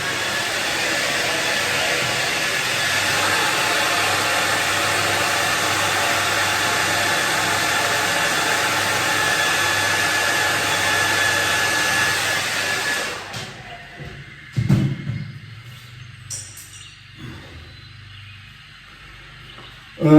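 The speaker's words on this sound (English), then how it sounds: "do the hair dryer." A hair dryer blows with a loud, steady broadband whoosh for about 13 seconds, then cuts off, leaving quieter handling knocks and faint background sounds.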